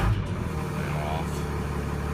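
A big rig truck engine runs at idle with a continuous low rumble, a brief hiss-like burst at the start, steady and near, without speech.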